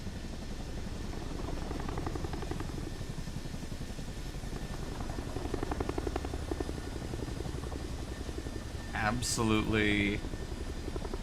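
A Chinook helicopter in Microsoft Flight Simulator 2024 drones with a steady rotor thrum and engine rumble, and someone speaks over it briefly.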